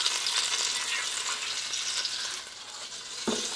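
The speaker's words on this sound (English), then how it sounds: "Hear that sizzle?" Steak sizzles and crackles steadily at close range in an air fryer, a soft hissing fry with no voices, plus a faint clunk near the end.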